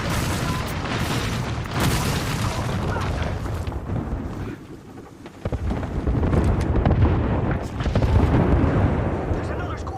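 Airstrike and thermite grenade blasts in the video game Apex Legends, a run of heavy booming explosions and rumbling detonations that swell and dip over several seconds, mixed with game noise.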